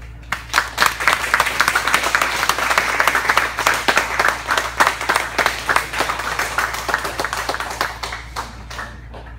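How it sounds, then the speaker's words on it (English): An audience applauds a martial arts team, many hands clapping in a steady rhythm, close and lively, then thinning out and fading toward the end with no speech over it. "all these guys deserve a round of applause"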